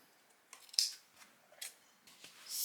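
Scissors snip loose threads off a freshly sewn dress bodice, a few sharp, close clips spaced irregularly with quiet pauses between them.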